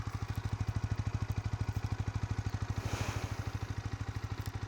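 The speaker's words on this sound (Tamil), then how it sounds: "இது வந்து பார்த்திங்கன்னா ஐடியல் சவுண்டு." Yamaha R15S motorcycle engine idling alone at close range, a steady rapid pulsing throb with even rhythm throughout.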